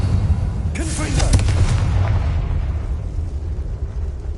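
Confringo fire spell from Hogwarts Legacy, bursting in a loud blast with crackling debris around the first second and a half, then fading into a low rumbling game ambience.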